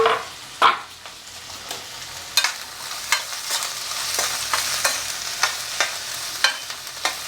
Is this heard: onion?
yes